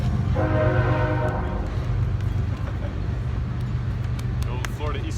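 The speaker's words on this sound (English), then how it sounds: "And then we have this lovely train that goes through." A Florida East Coast Railway train rolls past close by with a loud, steady rumble and a long horn blast early on, as people talk over it outdoors.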